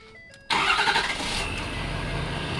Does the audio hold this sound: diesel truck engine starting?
yes